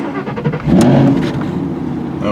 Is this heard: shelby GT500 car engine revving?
yes